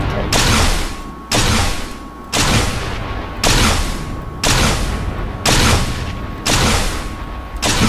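Rockets slam into a ship in Space Engineers with a Star Wars blueprint mod, seven heavy blasts landing in a steady rhythm about a second apart, each a loud boom tailing into a short rumble.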